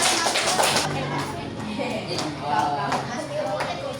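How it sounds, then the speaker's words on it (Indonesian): Children in a classroom clap for a group of classmates. The claps are scattered and uneven, and children's voices and chatter run through them. "Kita beri aplaus dulu, tepuk tangan untuk kelompok Tio dan"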